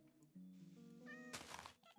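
Cat meowing in the CuteCraft video game: a drawn-out tonal meow, close and clear, then a brighter second cry with a noisy burst, set over soft background game sounds.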